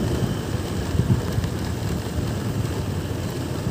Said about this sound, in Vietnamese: Sáng ngày trời có mưa nữa.